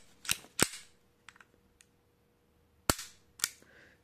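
A 1939 Walther PPK pistol in 7.65x17 gives sharp metallic dry-fire clicks during a function check: two quick snaps, a few faint handling ticks, then two more crisp clicks, close and isolated.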